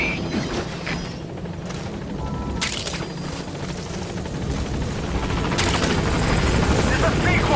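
A support helicopter arrives at a landing zone in the video game Metal Gear Solid V, its rotor drone and mechanical rumble loud and steady, building slightly in intensity while a radio voice talks over it.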